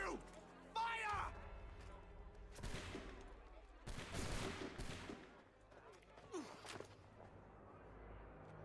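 A volley of musket gunfire in Assassin's Creed III: a dense crackle of near-simultaneous shots erupts in several loud bursts, overlapping with scuffling and shouts across the scene.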